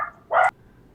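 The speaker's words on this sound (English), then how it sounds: "What is wrong with the dog?" A dog gives one short, sharp bark, loud and close, followed by near silence.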